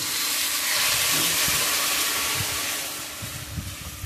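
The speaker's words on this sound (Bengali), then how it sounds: "এবার আমি অল্প গরম জল দিয়ে দেবো। গরম জল দিয়ে দিচ্ছি।" Hot water poured into a pan of rui fish cooked with poppy seed paste, cumin and green chilli gives a loud, steady hiss and sizzle that lasts throughout, with no voices.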